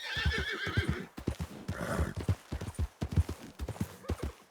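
A horse whinnies at the start and again midway while hooves clip-clop in an uneven rhythm, fairly close and moderately loud.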